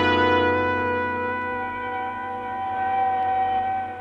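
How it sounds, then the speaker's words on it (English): An ambulance siren sounds in a radio-drama scene, arriving at a hospital receiving room; a steady, loud wailing tone with strong harmonics holds throughout, echoing slightly, with no talk over it. "The sound of an ambulance wheeling into the receiving room below shatters your train of thought."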